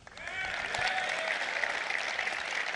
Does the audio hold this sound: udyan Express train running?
no